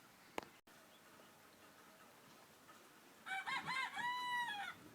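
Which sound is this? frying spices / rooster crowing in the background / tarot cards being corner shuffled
rooster crowing in the background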